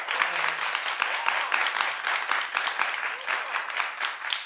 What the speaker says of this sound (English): clap if you like his clothes